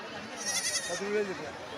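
A goat bleats once at a goat and sheep market in Mydukur, a short wavering cry close by, with a voice talking faintly around it.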